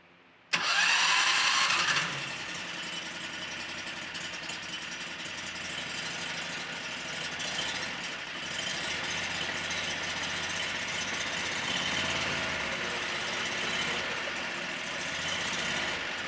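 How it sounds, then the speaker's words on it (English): A Predator 670 engine swapped into a Yamaha G29 golf cart cranks and fires with a loud burst, then settles into a steady, close idle that runs on alone for over ten seconds. "we're ready to test run this engine to make sure that everything's working properly"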